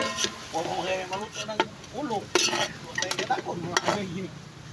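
Garlic and onion stirred and sautéed in a pan for goat papaitan, with soft sizzling and scraping of a utensil against the pan while a person talks over it.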